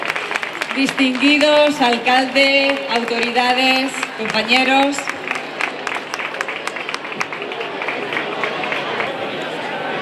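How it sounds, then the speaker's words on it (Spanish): Loud crowd applause and clapping at a Día de la Pasa festival ceremony welcoming the sponsors, dense broadband clapping running throughout while someone speaks over a PA system during the first half. "Fuerte aplauso para recibir a los padrinos"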